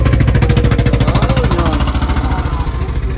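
A kuliglig, a jeep-like vehicle driven by a tractor engine, runs close by with a loud, rapid, evenly pulsing putter that holds steady throughout.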